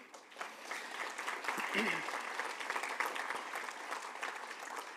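A church conference congregation applauds in a large hall, a soft, somewhat distant wash of clapping that swells slightly and holds, with a voice briefly audible over it.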